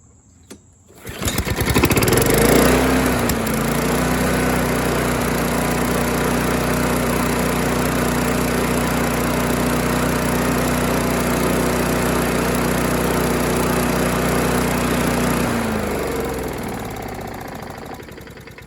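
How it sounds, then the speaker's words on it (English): Pressure washer engine fitted to a rental lawn mower, cranking to life, then running loud and steady for about twelve seconds before being shut off and slowly winding down without a brake. "This is a pressure washer engine."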